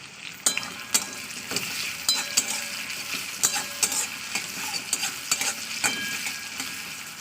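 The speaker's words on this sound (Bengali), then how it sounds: "পেঁয়াজটা এর সঙ্গেই দিয়ে দেবো দুটো শুকনো লঙ্কা আর দুটো তেজপাতা এবার দিয়ে ভালো করে আমি ভাজা ভাজা করে নেবো" Onion, dried red chillies and bay leaves frying in a pan while being stirred, with a continuous sizzle broken by frequent sharp scrapes and clinks of a spoon against the pan, close and without speech.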